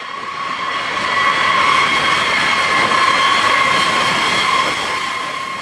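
A US Air Force B-52 bomber roars on an emergency takeoff at full power, a loud jet engine rumble with a steady high whine that swells and then slowly fades.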